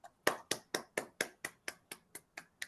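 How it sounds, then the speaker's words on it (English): A single pair of hands claps eleven times in a steady, quick rhythm at an award ceremony for a peace leader, close and crisp with no other voices. "So everybody, please join me in applauding Jackie."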